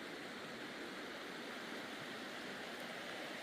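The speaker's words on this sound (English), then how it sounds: "You can hear the sound of the water here at camp." A stream flows past a campsite during an off-road overland trip in eastern Washington, giving a constant, even rush of water that stays steady and fairly faint with no voices.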